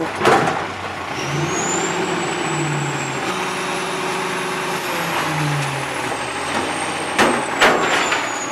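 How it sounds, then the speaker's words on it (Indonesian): A toy garbage truck in a toy-cleaning setting gives off a steady truck engine rumble with tonal whines rising and falling, a couple of sharp bursts near the end, and no talking. "lihat teman di sini ada truk sampah"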